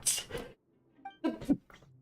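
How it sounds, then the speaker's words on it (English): A character in the video game Genshin Impact gives a few short, breathy sneezes and snuffles close up, with brief gaps between the bursts. "Sneezing."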